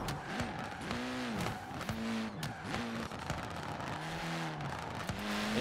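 A tuned-up car drifting in the racing game Forza Horizon 4, its engine revving in repeated rising and falling sweeps with tire squeal and skidding, loud and continuous, with no voice over it.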